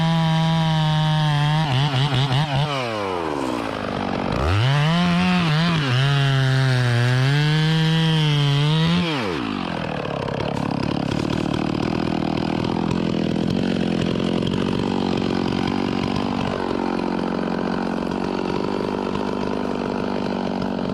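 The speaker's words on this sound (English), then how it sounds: "Now we're running 25-inch bars, or 24-inch, with skip tooth chain, full chisel, and I've been mighty happy with the way it cuts, and Skylar has really appreciated it too." Chainsaw running a 25-inch bar with full-chisel skip tooth chain cuts through timber, engine loud and close, revving hard for several seconds, then bogging into a steady, rougher cutting drone that continues to the end.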